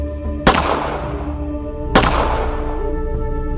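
Two loud gunshots ring out about a second and a half apart, each a sharp crack followed by a long echoing decay, with a steady hum underneath.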